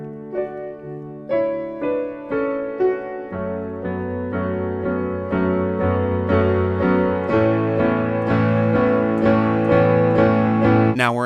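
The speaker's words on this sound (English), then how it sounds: "But anyway, let's start out with that iconic intro." Solo piano plays the intro of a song, starting with separate plucked notes and building into fuller, ringing chords with a slow, steady pulse, close and clear with no voices.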